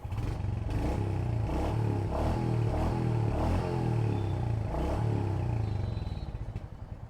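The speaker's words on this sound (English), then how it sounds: "Really, guys, the exhaust feels so good." A Royal Enfield Hunter 350 motorcycle engine thumps along with a rhythmic, throaty exhaust beat, rising and falling in pulses before easing off at the end.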